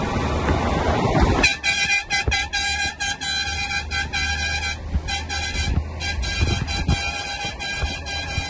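A truck horn sounds in a rapid series of short, loud blasts, repeating in an uneven rhythm over the hum of a running engine.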